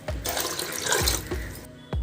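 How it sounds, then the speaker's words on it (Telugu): Water pours into a pot of soaked split moong dal for a vermicelli payasam, a continuous splashing stream broken by a few dull knocks of the vessel, fairly close and loud. "ఒక కప్పుకి ఒక నాలుగు కప్పులు వాటర్ వేసి ఉడికించుకోవాలి"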